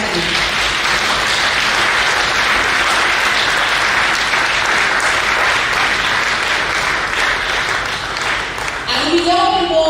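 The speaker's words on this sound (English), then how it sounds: "let me ask one more time that we clap for all our speakers on the platform today." Sustained applause from a large audience clapping for the speakers at a Planetary Liberation Day event, loud and dense throughout, fading out near the end.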